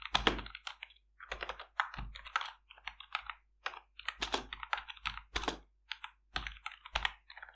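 Steady bursts of typing on a computer keyboard, close and clear, with short pauses between runs of keystrokes as someone enters a line of Python code for a voice-assistant program.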